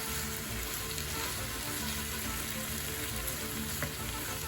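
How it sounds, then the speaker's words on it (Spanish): Pork chops with jalapeño chiles frying in a pan, a dense, continuous close sizzle that holds steady throughout with no talking. "Vamos a dejar que se fría un poquito todo."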